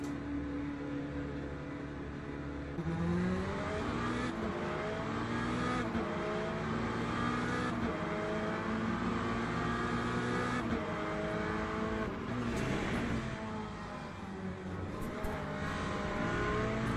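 A McLaren race car in Le Mans Ultimate roars continuously at high revs, its engine note climbing and then dropping through a series of quick upshifts, loud and close with no talk.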